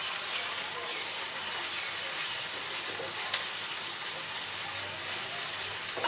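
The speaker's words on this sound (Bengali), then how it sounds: "আমরা আরো 1 মিনিট ফ্রাই করে নেব।" Garlic, green chili and ginger paste frying in a pan give a steady, close sizzle with fine crackling throughout, fairly even in loudness and with no talking.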